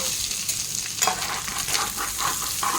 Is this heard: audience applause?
no